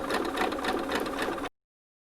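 A sewing machine stitches slippery ultralight tent fabric in a steady, close, buzzing run that stops abruptly.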